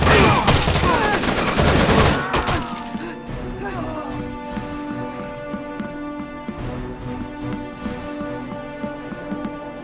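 Heavy gunfire in Rainbow Six Vegas 2 erupts as a dense, loud fusillade of shots over the first few seconds, then gives way to scattered bursts and impacts under a steady game background.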